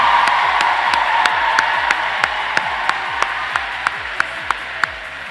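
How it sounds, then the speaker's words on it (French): Crowd applause at a graduation gathering, a steady wash of clapping under a loud, regular electronic beat pulsing roughly every third of a second. "Prêtez main pour m'applaudir."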